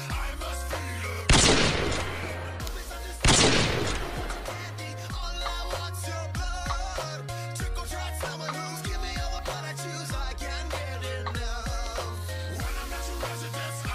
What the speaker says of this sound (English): I have a really realistic blaster